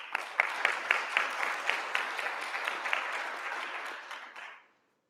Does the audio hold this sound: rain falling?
no